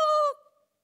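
A rooster's crow imitated by a human voice: a single short, bright, tonal call lasting about a third of a second, then quickly fading to silence.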